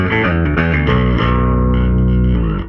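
An Ibanez SR405EQM five-string electric bass played through its bridge humbucker plays a few deep, sustained notes, loud and close with a gritty edge and lingering ring.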